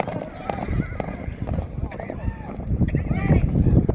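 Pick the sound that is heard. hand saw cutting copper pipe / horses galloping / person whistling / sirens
horses galloping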